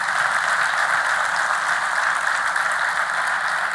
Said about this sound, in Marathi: टाळ्या वाजून प्रभूला धन्यवाद देऊया